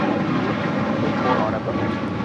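A JetBlue airliner roars down the runway on takeoff at LAX, a loud, broad, steady engine rumble filling the moment with no voices over it.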